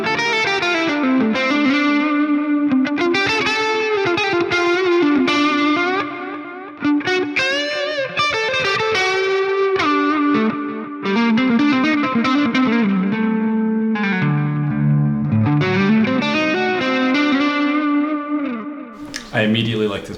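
Heavily distorted electric guitar through a Bogren Digital amp plugin on its lead cab, playing sustained, bending lead lines continuously and loud, with a brief dip midway and a sharp cut at the end.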